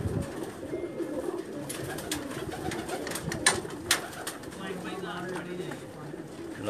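Pakistani pigeons coo on a rooftop loft in Jeddah, Saudi Arabia, in a low, steady murmur close by, with someone talking over them and a couple of sharp knocks or wing claps partway through.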